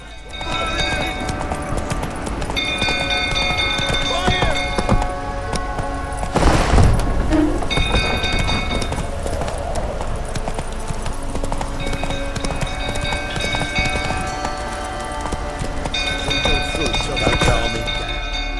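Roach the horse gallops in The Witcher 3, its hooves making steady, close clip-clop over a game soundscape, with a voice speaking briefly.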